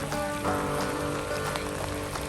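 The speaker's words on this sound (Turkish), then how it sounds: "Tabii ki de çılgınca yağmur." Heavy rain pours steadily over an outdoor spot in Ireland, a dense, continuous patter of drops on hard surfaces close around, with no talking.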